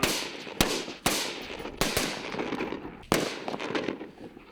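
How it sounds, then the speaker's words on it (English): Sniper rifle shots on a military training range, four loud, sharp cracks spaced about a second apart, each trailed by a rolling echo that rings out across open ground, with no voices. "Specialist James Jackson spends this day on the sniper range, a crucial element in the protection part of the mission."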